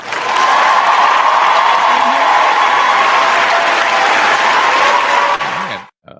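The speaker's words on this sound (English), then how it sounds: "Can you hear the clapping?" A steady applause sound effect plays on a sports chat livestream, dense and loud for about five seconds before cutting off abruptly.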